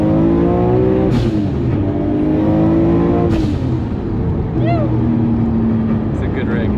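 A Nissan R32 Skyline GTR launches hard, its engine note climbing through repeated rising revs with gear-change breaks, loud and close.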